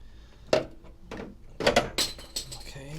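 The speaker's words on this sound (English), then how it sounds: "just dropped my wrench through" A wrench drops through the grill of a 45-year-old Datsun: a few sharp metallic clanks and rattles spread over a few seconds, near and moderately loud, against quiet background.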